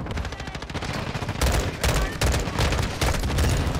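Rapid gunfire from Call of Duty: Modern Warfare, loud and close, with dense automatic bursts running nearly continuously and brief breaks between volleys.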